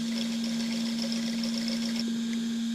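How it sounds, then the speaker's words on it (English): Simulated RC engine sound from a GT Power sound system, a steady electronic engine drone with a strong constant hum, even and unbroken throughout. "we've got 58 preloaded engine sounds here"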